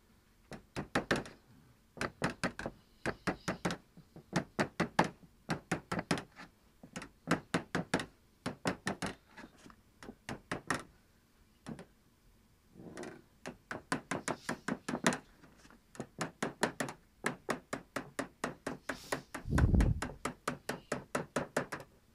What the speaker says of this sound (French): Donc ensuite, vous pouvez replier donc avec votre marteau votre feuille.